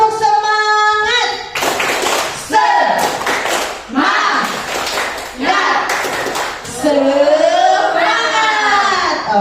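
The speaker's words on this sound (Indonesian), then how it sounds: "Tepuk semangat." A classroom of standing students performs a rhythmic spirit clap, sharp bursts of group clapping in patterned beats alternating with loud chanting voices.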